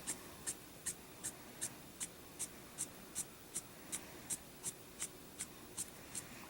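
Pen flicked off paper in quick drawing strokes, a regular series of about eighteen short crisp swishes at an even rhythm, faint and close, against a quiet hiss.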